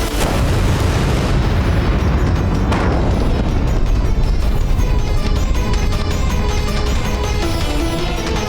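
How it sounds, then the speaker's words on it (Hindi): Cannons fire shells at a fort in a historical drama, heard as a dense, loud, continuous roar of booming blasts and explosions with sharp bursts near the start and again a few seconds later. "बरसाते रहो तोपों से गोले, जल्द ही हम चित्तौड़ के किले पर हमला बोलेंगे।"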